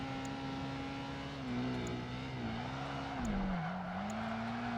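A car slides sideways with tires squealing in Project Gotham Racing 2, a sustained wavering screech over a steady engine drone that dips and recovers, with no talk.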